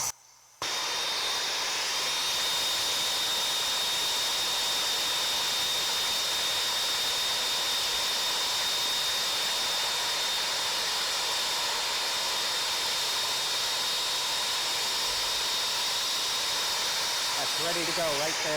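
An ASCO torch flame burns with a loud, steady roaring hiss that holds evenly for many seconds, close up and unbroken after a brief quiet start.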